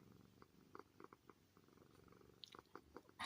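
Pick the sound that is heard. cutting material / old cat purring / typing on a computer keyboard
old cat purring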